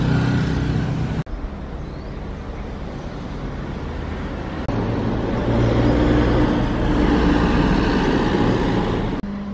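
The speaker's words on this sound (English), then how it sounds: "Obviously there's a lot of cars around, which surprises me" Cars and a bus pass on a street in Bangsar, Kuala Lumpur: a continuous roadway roar swells and fades as vehicles go by, with a nearby heavy engine droning low and loud for several seconds.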